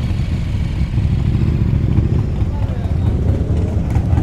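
Superbike engines from a group of Nepalese riders, including a Triumph 1050 triple, rumble continuously and close by, with wind buffeting the microphone throughout.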